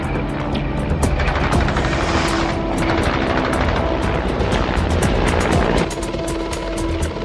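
A Mi-4 military transport helicopter, the armed fire-support version, flies past with a steady, loud rotor throb and engine drone that holds throughout and eases off slightly near the end.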